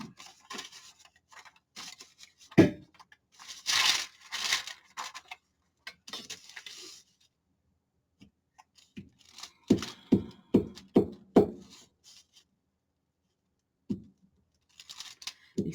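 Paper trimmed for a junk journal, heard as a handful of quiet snips and rustles, some isolated and some in a quick run of close, crisp cuts separated by silent pauses.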